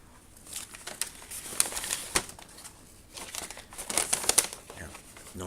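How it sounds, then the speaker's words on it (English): A paper sack crumpled and crinkled up close, with crackly bursts near the start and a denser run of crinkling toward the end, quiet pauses between. "Oh yeah, the paper sack."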